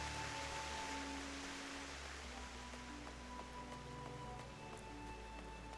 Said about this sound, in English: Nice lovely rain right now.